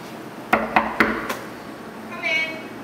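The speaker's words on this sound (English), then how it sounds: "You knock. You knock. You knock." Four sharp knocks on a door come in a quick, uneven run, followed by a brief muffled clatter nearby.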